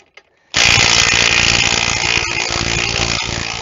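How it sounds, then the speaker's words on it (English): A big wrench runs hard on a tight front strut bolt of a 2014 Cadillac Escalade, a loud, continuous mechanical roar that kicks in abruptly and keeps going with slight strain dips. "You see how this is a big torque wrench and it's struggling."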